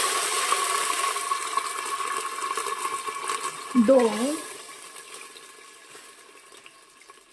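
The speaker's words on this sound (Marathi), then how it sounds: "आपल्याला आठ वाट्या पाणी घालायचं आहे" Water runs and splashes steadily into a cooking pot, measured out for wheat porridge, gradually quieting toward the end, with a brief spoken word in the middle.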